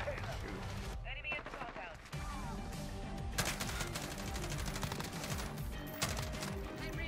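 Rapid bursts of G36C rifle fire in Modern Warfare, loud and close, with sustained automatic volleys and short pauses, mixed with game effects and a player talking over the shooting.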